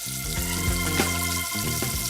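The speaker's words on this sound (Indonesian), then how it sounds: "Pertama, kita landingkan gyozanya ke dalam minyak panas." Chicken gyoza dropped into hot oil for deep frying, giving a steady close sizzle and bubbling that runs evenly throughout with no talk.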